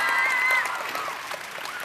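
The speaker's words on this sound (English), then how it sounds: "So give them a big round of applause." Applause from an audience at a New Scientist Live science event: a steady wash of clapping lasting about two seconds, loudest at the start and easing slightly toward the end.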